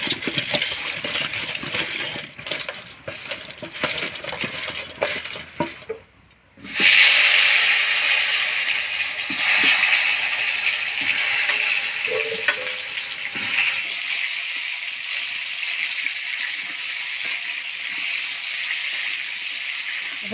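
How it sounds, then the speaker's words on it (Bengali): Pointed gourd coated in turmeric and salt drops into hot oil, bursting into a loud, steady sizzle after a moment of quiet. The frying hiss continues strongly and gradually settles, with earlier clattering of the prep. "এবার পটলটা হলুদ লবণ দিয়ে মাখায় ভাজি নিব"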